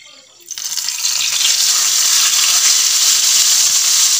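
A sudden loud sizzle as a hot oil tempering hits yogurt and gram-flour kadhi curry with spinach, settling into a steady crackling hiss that continues throughout.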